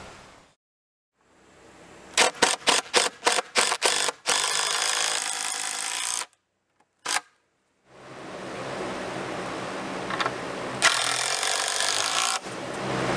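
Screws 3.5 inches long, structural type, driven into wooden deck stairs with a power drill or driver, heard as a run of short bursts followed by longer sustained whirring runs, near and loud, separated by brief silent pauses.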